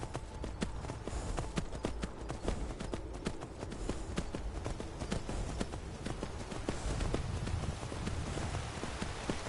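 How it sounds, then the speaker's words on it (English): Horse hooves gallop in the Skyrim VR video game, making a rapid, even clip-clop over a dense, noisy background that stays loud throughout without a break. "I am a cat riding on a horse."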